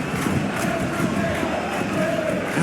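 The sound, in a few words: crowd cheering in a football video game (PES 2021)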